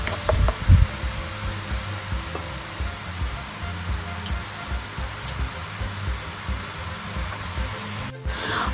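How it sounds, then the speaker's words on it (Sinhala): Potatoes frying in a pan with salt, turmeric and pepper while making homemade fried rice: a steady, moderate sizzle over a low rumble, with a brief clatter at the start and another just before the end. "ඒ ටිකත් හොඳට මේ විදිහට කලවම් කරලා අලේක තව චුට්ටක් වෙලා බැදෙන්න තියෙනවා"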